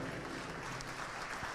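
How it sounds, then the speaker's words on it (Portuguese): Church congregation applauding together during a worship service, a steady dense clatter of many hands filling the room without a break. "os que podem, tomem seu assento, aplaudindo a Jesus, porque Ele é bom"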